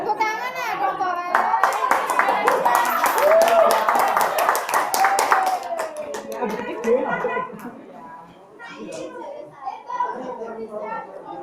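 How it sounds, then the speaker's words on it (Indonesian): A group of children clap their hands in a quick, uneven burst during a classroom activity, the claps mixed with their chatter and a teacher's voice, then fading as talking and laughter take over. "Tepuk tangan ya, kawan-kawan"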